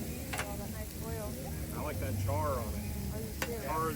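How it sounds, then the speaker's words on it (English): Zucchini and broccoli sizzle on a Blackstone griddle, a steady bright frying hiss with occasional scrapes and stirring clatter, close and continuous beneath faint background noise. "I like to let that cook on the griddle top until it starts to get a nice char on it."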